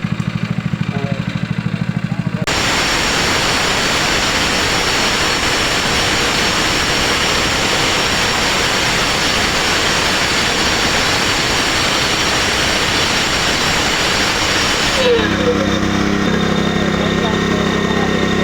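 A Maruzen prime mover engine runs steadily at close range, giving a loud, continuous mechanical drone throughout, with a brief change in tone near the start and end.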